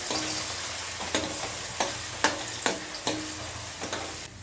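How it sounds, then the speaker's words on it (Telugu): Cumin seeds and onions frying in hot oil for a Telugu gongura meal maker curry, giving a steady close sizzle with several sharp stirring scrapes at regular intervals, no voices. "ఇదే ఆయిల్లో పోపు పెట్టేసుకుందాం. 1 స్పూన్ జీరా వేస్తున్నాం."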